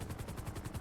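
A helicopter hovering close overhead, with loud rapid rotor thumps beating in an even rhythm through a dense, roaring wash.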